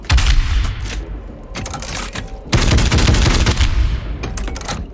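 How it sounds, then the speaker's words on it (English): A Gatling-style rotary shotgun from the shooter game DOOM Eternal fires in rapid sustained bursts, two long rattling volleys with heavy booming blasts and a short pause between them, loud and close. "With the sort of Gatling shotgun."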